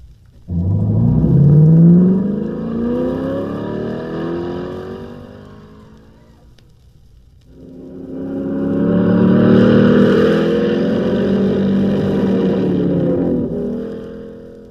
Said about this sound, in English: You've been listening to the sounds of a 1961 Chevrolet Corvette.